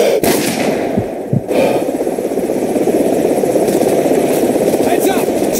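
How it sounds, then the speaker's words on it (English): An inbound helicopter in Call of Duty 4: Modern Warfare thuds with a loud, continuous rotor chop, layered with scattered gunfire and battlefield noise throughout. "Heads up! Chopper's inbound!"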